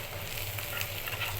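Onions frying in mustard oil in a pan, browning for a dried-fish dish: a steady, dense sizzle with soft crackle runs continuously at close range, with no voices.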